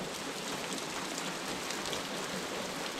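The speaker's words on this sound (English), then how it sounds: "the sound of rain makes everything seem so mellow" Steady rain falling on a calm night, a dense, even hiss of drops on surfaces with no gaps or voices, soft and continuous throughout.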